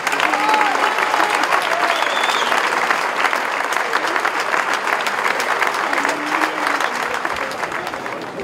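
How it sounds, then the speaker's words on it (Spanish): Loud, sustained applause from a crowd at a town festival gathering in Cintruénigo, dense steady clapping with faint voices and cheers mixed in, easing slightly toward the end. "Un fuerte aplauso para todos ellos"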